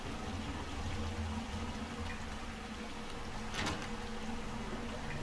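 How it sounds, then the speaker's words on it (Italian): Running water in a bathroom in the Resident Evil 2 remake, a steady watery wash with a low hum underneath and a brief louder splash partway through, no voices. "Acqua."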